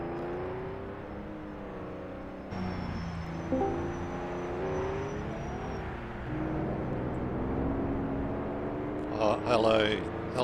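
Racing car engine at Goodwood during a practice session for a 1956 Gold Star round, heard close with a steady drone and shifting pitch over ten seconds, with people talking over it.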